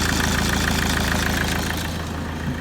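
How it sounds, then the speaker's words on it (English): A Ford Mondeo Mk4 engine idles smoothly, a steady, even low rumble running close and continuous with no talking over it. "And you see that engine? It's running perfectly smooth."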